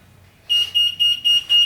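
Five quick, high-pitched electronic beeps from the alarm system of a 1988 Volkswagen Westfalia camper van being disarmed, in an even rhythm, loud and close, following a moment of near silence.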